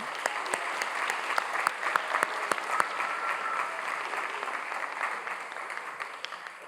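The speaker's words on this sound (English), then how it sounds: "Let's give a big round of applause for them." A crowd at a high school spring sports awards night gives sustained applause, an even wash of many hands clapping with a few sharper claps standing out near the front.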